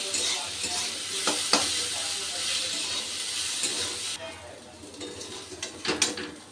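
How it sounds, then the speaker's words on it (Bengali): Crushed dried loitta fish fries with salt and spices in a pan, sizzling and hissing while a utensil scrapes and stirs in uneven bursts, the frying thinning out near the end. "এবার মশলার সাথে আমি ভালো করে কষিয়ে নেব।"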